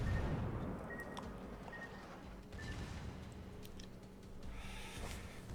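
Warship secondary guns fire in World of Warships as a few muffled, distant booms and cracks, spaced over a low rumbling battle backdrop.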